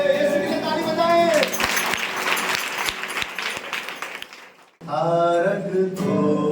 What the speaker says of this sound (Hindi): यीशु के लिए ताली बजाएं।